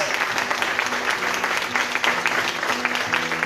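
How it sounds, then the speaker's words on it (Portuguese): A church congregation applauding together in praise, a steady wash of many hands clapping at close range for several seconds, with faint voices and some music beneath. "toda a igreja dá uma linda salva de palmas para Jesus"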